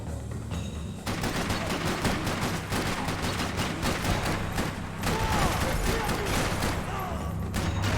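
Rapid automatic gunfire in the shooter game Max Payne 3, dense bursts of shots rattling almost continuously at close range, with a voice heard briefly.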